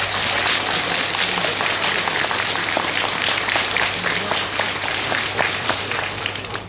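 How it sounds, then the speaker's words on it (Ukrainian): A large crowd at a school graduation ceremony in Kharkiv, Ukraine, applauds the military with steady, dense clapping that holds loud throughout and thins slightly toward the end. "оплесками подякували нашим славетним військовим"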